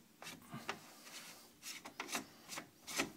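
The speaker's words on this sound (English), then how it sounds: "Put the lid back on," The lid of a magnetic central heating filter being put back on and turned: faint, close scrapes and rubbing clicks in irregular bursts, with no talking.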